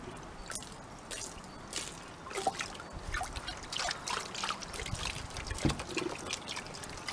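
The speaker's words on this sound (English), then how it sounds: "I decided to pan it rather than sluice it" Gold pan swirling creek gravel and clay material in water, with continuous sloshing, trickling and gritty scraping of stones against the pan, close and fairly loud with irregular splashes throughout.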